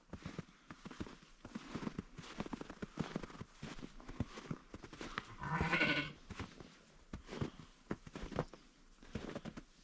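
Sheep on a forest farm bleat amid shuffling and movement, several faint calls with one louder bleat in the middle, heard from nearby in a quiet setting.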